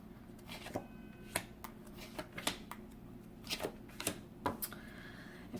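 Tarot cards being shuffled in a series of quick, crisp riffles and snaps, irregularly spaced, close up with no talking.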